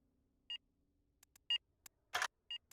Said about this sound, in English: we get to listen to that beep